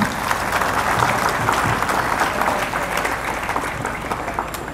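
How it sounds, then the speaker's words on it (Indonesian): Sustained applause from a large audience at a Christmas theme reflection event in Jembrana regency, dense steady clapping filling the whole stretch without a break. "Silakan Anda memberikan aplaus untuk diri Anda masing-masing."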